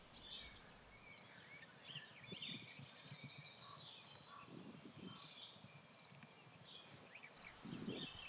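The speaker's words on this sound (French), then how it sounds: "La prairie bruisse de toutes parts. Des centaines de grillons, des criquets, des sauterelles" Steady high-pitched chirring from hundreds of crickets, grasshoppers and bush crickets fills a meadow in spring, continuous and even, with faint rustling and occasional soft low thumps underneath.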